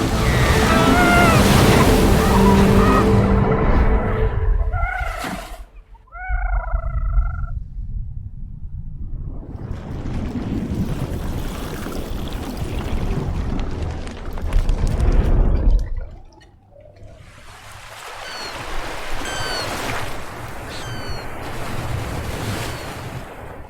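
Heavy ocean surf and wind roar around a ship crossing the Drake Passage on the way to Antarctica, loud and continuous with surging swells, brief drops and gusty microphone buffeting, plus a few faint tonal calls.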